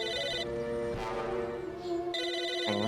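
Electronic phone ringing in the video game Psychonauts, a sustained tonal ring in two bursts with a warbling sound between them, fairly loud and close.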